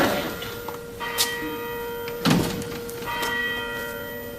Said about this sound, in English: Ask not for whom the bell tolls. It tolls for me.